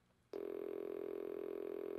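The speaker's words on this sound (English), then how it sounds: "Why did it just fart at me?" A Simon electronic memory game toy lets out a loud, sustained buzzy fart-like tone that starts abruptly after a short quiet moment and holds steady to the end.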